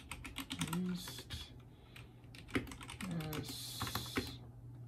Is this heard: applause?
no